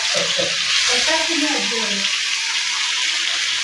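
Ginger and garlic sizzle and hiss steadily in a hot pan, being fried as the base for khichuri. Voices talk briefly over the sizzling at first, and then the frying carries on alone.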